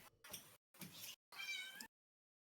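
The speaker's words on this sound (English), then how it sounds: "I heard a meow" A cat meows three times in quick succession, each call clear and fairly close, with short silent gaps between them and no talking over it.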